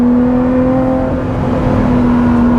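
Mid-engined Lotus Exige Sport 390 Final Edition on a track, its engine holding a loud, steady droning note with strong tonal hum throughout, close and unbroken, with no voices.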